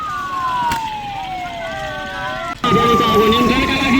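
An emergency siren wails loudly nearby during a fire-control response. Its pitch sweeps down in long falling tones, then shifts abruptly to a different, steadier wail over street noise.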